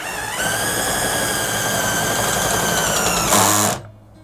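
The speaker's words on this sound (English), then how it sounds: "Right, okay, so let's wind the steady up." A Juemel cordless drill with a variable-speed trigger winds up a caravan corner steady, giving a steady high-pitched whine that holds for about three seconds, rises briefly, then cuts off.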